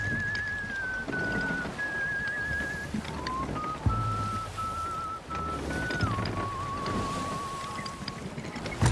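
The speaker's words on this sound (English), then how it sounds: "Because I'm playing my drum and whistling." A player character whistling a wavering tune in the pirate game Sea of Thieves, long held notes that slide between pitches, heard faintly over wind and sea noise.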